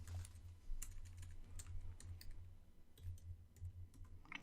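Typing on a computer keyboard nearby, quick irregular key clicks in short bursts with small pauses, alone without speech.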